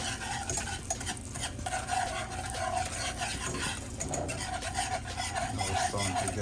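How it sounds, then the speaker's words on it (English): Sugar being whisked in a pan over very low heat for an apple toffee glaze, a constant rough scraping and rattling of the whisk against the pan, steady and close throughout. "Keep whisking."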